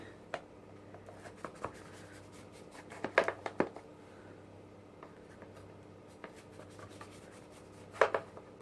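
A knife slices through a baked potato cake in a quiet kitchen, with soft scraping cuts and a few sharper clicks against the pan in short bursts.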